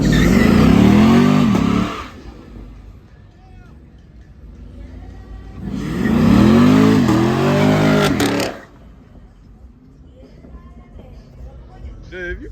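A car engine revs hard in two loud bursts with traction control switched off, each rising roar lasting about two seconds, separated by lower idle rumble and people talking nearby.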